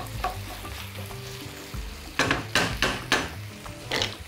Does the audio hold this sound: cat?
no